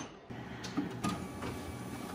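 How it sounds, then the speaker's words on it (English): An office printer runs off a fuel injection balance test manual for a Mercedes M103 KE-Jetronic, giving a steady mechanical whir with a few soft clunks of paper feed, close by and alone. "So I'm just printing off the manual for the fuel injection balance test."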